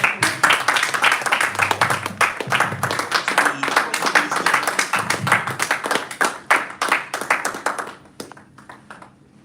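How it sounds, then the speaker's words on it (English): Sustained round of applause for a guest at a Toastmasters club meeting in a Lagos hotel, many hands clapping in a lively, uneven rhythm with crisp individual claps, close and loud, tapering off and ending near the close. "Round of applause for Tega"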